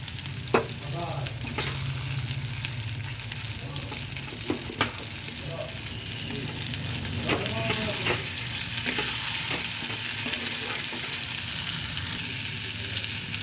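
Potatoes frying in a pan of oil, a constant close sizzle with scattered clicks and scrapes from stirring over about thirteen seconds.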